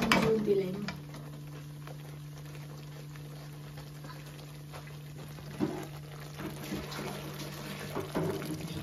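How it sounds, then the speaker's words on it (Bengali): Broth poured into a frying tomato curry makes a loud splashing hiss for the first second, then settles into a soft, low simmer with faint stirring and scraping that picks up slightly toward the end. "এটার আমি ঝোল দিলাম।"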